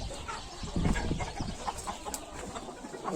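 Several hens kept together in a coop cluck and murmur softly, a low scattered chatter with occasional brief calls, fairly faint and unbroken by speech.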